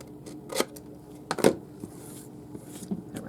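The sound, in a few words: cutting paper along lines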